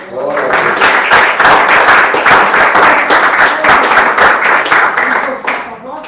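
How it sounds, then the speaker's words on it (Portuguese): A church congregation claps for Jesus during a Christmas worship service, loud, close and sustained, with sharp individual claps standing out before it eases off. "Você pode dar um aplauso ao Senhor Jesus?"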